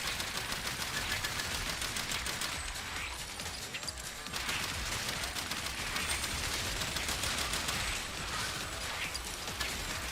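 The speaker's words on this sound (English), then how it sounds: "now they're shooting" Rapid bursts of enemy gunfire from the Far Far West video game crackle densely and loudly throughout, nearly continuous with brief lulls, layered over busy game noise.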